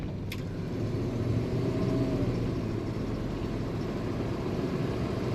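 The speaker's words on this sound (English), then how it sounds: "The torque in this car makes it kind of effortless for it to pull itself along up to speed" A 1960 Oldsmobile Dynamic 88 Holiday Sedan accelerating up to speed, its engine giving a steady, low, continuous rumble heard from inside the car without talk.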